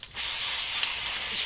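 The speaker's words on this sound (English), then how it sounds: "Then get you some spray stuff" An aerosol can of spray adhesive releases a steady, close hiss for over a second while a shop vacuum filter bag is being prepared for reuse.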